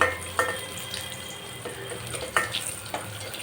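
Four cloves of chopped garlic sautéing in a pan of oil for pirandai kuzhambu, a steady low sizzle with a few brief clinks of stirring, close and fairly quiet with no talk.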